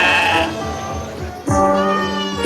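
A sheep bleats loudly and close, two wavering cries with a short break between them, heard alone without talk.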